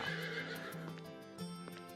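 A horse in the video game Wild Arms 3 whinnies loudly with a high, shaky neigh while hooves clip-clop steadily beneath it, all sounding close and clean.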